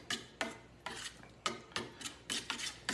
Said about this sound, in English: now we stir all of our ingredients together